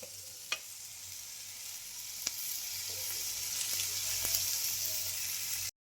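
Tomatoes for a tomato tamarind chutney frying steadily in a pan, a constant close sizzle with a few sharp pops and clicks, then an abrupt stop.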